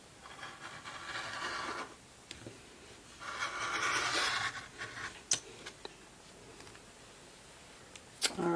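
Fabric pieces for half rectangle triangles being cut, giving two quiet, drawn-out rasping strokes a second or so apart, followed by a few small clicks and knocks with no talk.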